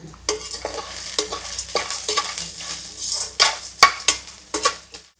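A spoon stirs carrots and other vegetables sautéing in a pan, scraping in quick, uneven strokes over a continuous close sizzle. The scrapes grow louder and sharper toward the end.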